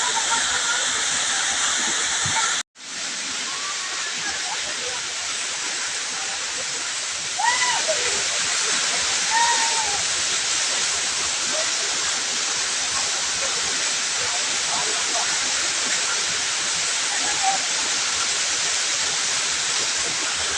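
Waterfall at Talon Falls roaring as a loud, constant broadband rush, briefly cut out once early, with faint distant voices and splashes beneath.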